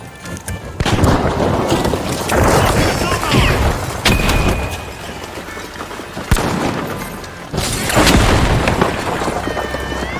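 Heavy booming grenade explosions in the video game The Finals burst out several times in an arena match, loud and close, over dense gunfire, game noise and an announcer's voice.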